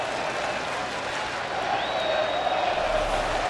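A baseball stadium crowd roars and applauds in a late regular-season game, a dense, loud, sustained wall of cheering and clapping with faint talk mixed in.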